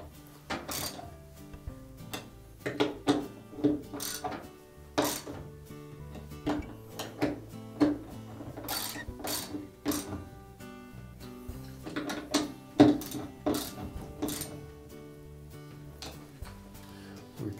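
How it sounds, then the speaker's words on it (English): A socket wrench ratchets repeatedly as it snugs down the mounting screws of a Whirlpool washer's rotation sensor, giving a series of close, clicking and clanking mechanical bursts with no talking. "And then we'll tighten it with our socket."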